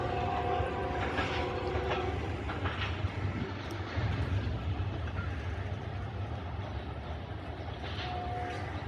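Train 103 rushes through Badamibagh station at speed with a loud, continuous roar of wheels and carriages, rumbling and clattering, and a brief tonal horn-like note near the start and end.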